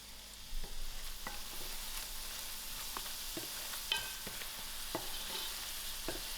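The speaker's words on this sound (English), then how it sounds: "As my onions are frying, I'm going to add in my biryani spice." Onions frying in a pan for prawn biryani, with biryani spice added, give off a steady crackling sizzle, with scattered light scrapes and clicks as they are stirred. It is close but fairly quiet.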